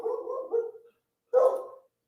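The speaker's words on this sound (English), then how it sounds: "sorry if you hear my dogs barking" Household dogs barking indoors, two separate muffled bursts split by a short silence, moderately close and heard alone.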